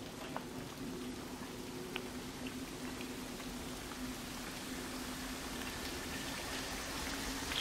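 Steady wash of falling water from a waterfall in the exploration video game Dear Esther, a constant broadband rush with faint droplet flecks, moderately loud and unbroken throughout with no speech.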